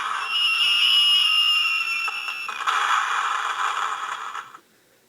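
Electronic fireworks effect from a Transpod toy's speaker: a few seconds of hissing, crackling whoosh with a whistling tone that fades out, then a sudden stop, no voices.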